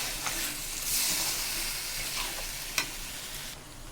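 Chili chicken sizzles in a frying pan as cornflour water is stirred in, giving a steady close hiss of frying with soft scraping stir strokes and one sharp clink, no talking.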